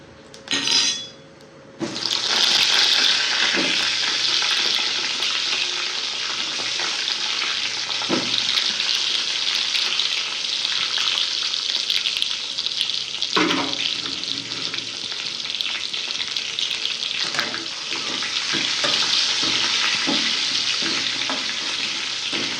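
Eggplant pieces drop into hot oil in a pan for bharit, bursting into a loud, close, continuous sizzle with occasional stirring clinks and no talking.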